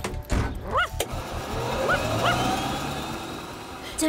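A cartoon dog yips and barks in a few short bursts over faint background sound and street noise in an animated children's show.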